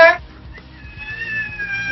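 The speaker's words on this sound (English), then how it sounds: "That was my cat." A house cat meows briefly, close and fairly loud, then a longer drawn-out meow follows, interrupting people talking during a podcast recording.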